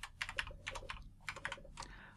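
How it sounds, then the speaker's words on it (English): Typing on a computer keyboard, with quick clusters of clicking keystrokes in an irregular rhythm, close and fairly quiet, with no voices. "we need to type / Microsoft"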